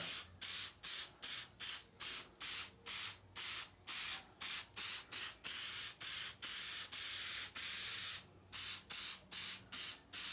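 Bursts of spray-gun hiss as lacquer goes onto a PRS-style Tiger Eye guitar body, about a dozen and a half short sprays in a steady on-off rhythm, close and fairly loud with brief pauses between passes.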